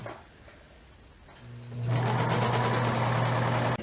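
A sewing machine set to a widened stitch runs across fabric, starting after a quiet moment and settling into a loud, steady mechanical whir until the end.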